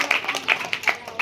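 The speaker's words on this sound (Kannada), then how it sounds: "ಜೆ.ಸಿ. ಬೋಸ್ ತಂಡ ಜೋರಾದ ಚಪ್ಪಾಳೆ ಬರಲಿ." A school audience at a National Science Day quiz claps for the J.C. Bose team, a quick run of sharp, close handclaps mixed with voices.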